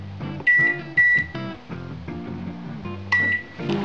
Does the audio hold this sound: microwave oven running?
yes